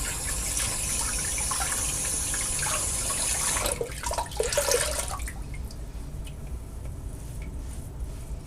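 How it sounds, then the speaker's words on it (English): Cold water runs from a bathroom tap during a shaving routine, a steady broadband rush for several seconds that breaks up and then cuts off, leaving quieter splashes and drips. "Some cold water."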